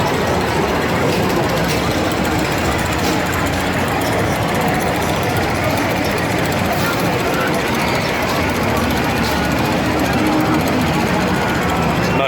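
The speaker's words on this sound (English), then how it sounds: "Not sure I understand the appeal to the tractor pull other than the ridiculously loud noise" A tractor-pull engine roars loud and steady at the NC State Fair, a dense, unbroken mechanical din with a heavy low rumble and harsh rattling overtones, with indistinct crowd voices mixed into the noise.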